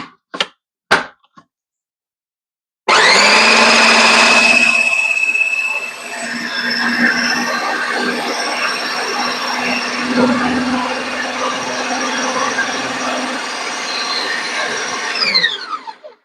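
A food processor whizzing hummus with cumin, starting abruptly after a few brief knocks and running as a loud, steady whirring drone for about twelve seconds before cutting off.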